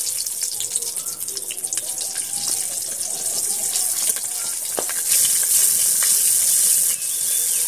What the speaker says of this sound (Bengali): লঙ্কাটা ভাজা ভাজা হয়ে গেছে,